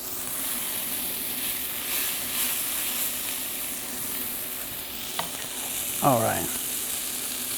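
Asparagus sizzles in a frittata pan with the heat off, a steady soft frying hiss close by, a brief stir near the end, and a short spoken remark.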